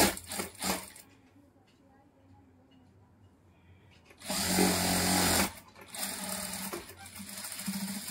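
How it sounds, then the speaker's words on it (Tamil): A sewing machine runs in two bursts while stitching a cross-cut blouse: a short whirr at the start, then a louder, steady run of stitching that continues near the mic with brief pauses, with little else around it. "இப்போ பாருங்கள், இப்படி தான் வந்து ஸ்டிச்சஸ் போடணும்"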